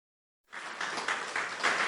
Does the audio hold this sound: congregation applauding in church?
yes